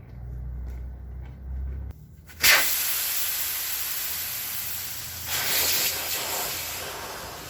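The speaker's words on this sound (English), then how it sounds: "Now that we've got the air out of the tire" Air rushing out of a Ford 8N tractor rear tire through the open valve stem, a sudden loud hiss that starts abruptly after a few quiet seconds and then carries on steadily, close by, with no talking.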